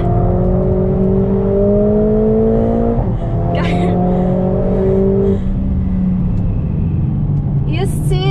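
A Mercedes-AMG A45s with 421 hp, drifting in drift mode on a track, holds a loud, sustained engine drone whose pitch climbs, dips after a shift and climbs again, with brief tyre squeals near the end.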